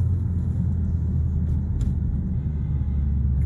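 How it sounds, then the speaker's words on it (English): Steady road traffic rumble heading into Colchester on a hot June day, a continuous low engine drone of passing cars with a couple of faint brief clicks, no talking. "Traffic coming in."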